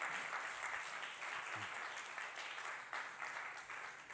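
A church congregation breaks into applause during a sermon, a full, even roar of many hands clapping that holds steady with slight swells, heard from within the room.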